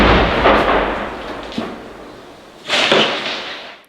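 Separatist artillery shelling the Donbas battalion positions at Shyrokyne, heard as loud broadband blasts: a heavy rumbling impact at the start, a short sharp crack mid-way, and another strong booming burst near the end.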